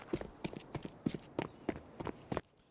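Footsteps on a stone floor at B main on the Counter-Strike Anubis map land as about eight crisp, evenly spaced steps that run quick and close, then stop suddenly.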